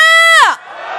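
A voice gives a sustained, pitched call that bends downward, then gives way to a dense, roaring wave of cheering and shouting from a large protest crowd at a candlelight march demanding impeachment.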